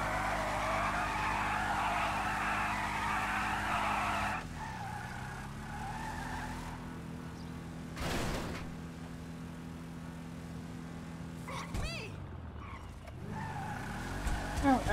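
Drag car in the GTA video game: tires squeal and skid steadily over a droning engine, then the engine revs rise and fall with brief squeals, mid-distance and moderately loud.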